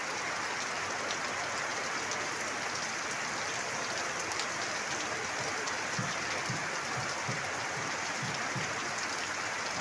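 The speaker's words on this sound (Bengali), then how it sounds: "সিলেটে যখন বৃষ্টি শুরু হয় তখন দুই দিন তিন দিন পর্যন্ত এক নাগার বৃষ্টি হয়" Heavy torrential rain in Sylhet pours in a dense, constant hiss at steady loudness, with a few faint low thuds partway through.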